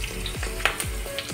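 Cashews drop into a hot pan of oil for shahi pulao and sizzle steadily, with light clicks and stirring scrapes over a constant frying hiss, close and without talk.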